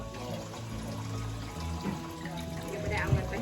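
Water is poured into a Thai bamboo shoot curry in the pot, a wet splashing trickle heard close up while people talk over it.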